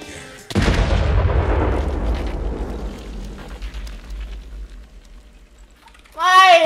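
A single loud blast from a Minecraft explosion hits suddenly and rumbles away over several seconds, fading into a low drone; a voice starts speaking just at the end.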